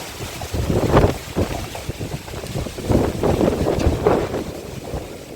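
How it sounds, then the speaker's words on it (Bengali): Strong cyclone wind during Cyclone Remal in a village, roaring and buffeting the microphone in loud gusts that swell and fade over a few seconds, with no talking. "মারাত্মক বাতাস।"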